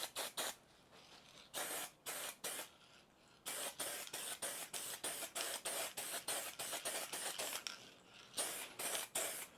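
White primer sprayed from an aerosol can in a rapid series of short hissing bursts, close and fairly quiet, with brief pauses between them.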